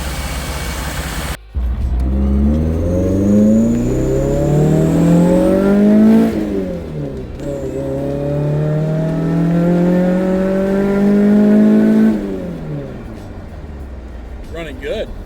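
A Toyota AE86 with a 4A-GE engine on Keihin FCR41 carburetors revs up and drops back, two long rising-and-falling sweeps over a rough idle, loud and close.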